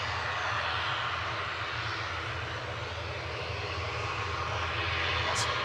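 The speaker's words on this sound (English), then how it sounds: "This is Aer Lingus heading back to Belfast, flight 3611, ATR 72, CMJL, operated by Emerald Airlines UK" An Aer Lingus ATR 72 turboprop, operated by Emerald Airlines UK, departs Manchester for Belfast, giving a steady, moderately distant engine drone that holds evenly throughout with no voices.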